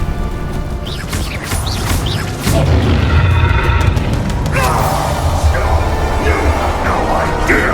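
A loud magic spell is cast in the Hogwarts Legacy video game, with a booming crash amid busy combat effects and whooshes, under a short burst of speech.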